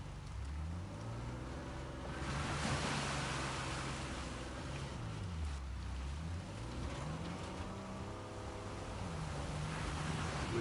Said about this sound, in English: A secret cave behind a waterfall.